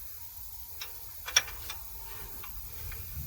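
Socket wrench ratcheting against a tight CV axle nut on a 2010 Chevy 1500, giving a few sparse metallic clicks with one sharper snap as the nut breaks loose, close and fairly quiet over a low background rumble.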